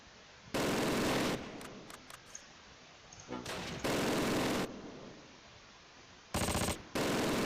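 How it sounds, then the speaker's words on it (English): Machine-gun bursts rattle in Close Combat: Last Stand Arnhem, several loud sustained volleys separated by short pauses and a few scattered single shots. "We're under heavy fire."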